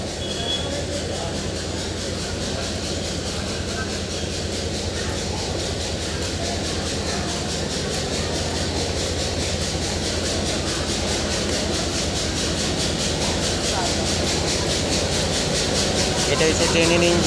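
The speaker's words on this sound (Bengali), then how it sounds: "এটা হচ্ছে ট্রেনের ইঞ্জিনটা।" Train standing at Sarishabari railway station with its engine running: a continuous low mechanical rumble and hum, fairly loud and steady throughout, with no clear clatter of moving wheels.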